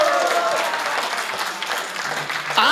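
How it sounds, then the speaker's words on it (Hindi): Audience applause at a Hindi poetry recital, a dense, even patter of clapping from a crowd sustained throughout, with a voice rising near the end. "और अब थोड़ा सा तालियों को और मुखर करना"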